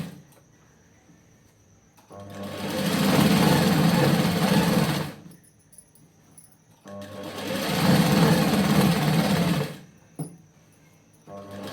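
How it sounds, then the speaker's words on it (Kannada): A sewing machine stitches cloth in two sustained runs of several seconds each, separated by a pause, with a brief mechanical click between runs, close and fairly loud, no talking. "ಇದ್ರ ಬಾಜು ಇನ್ನೂ ಒಂದು ಸ್ಟಿಚ್ ಹಾಕ್ತೀನಿ."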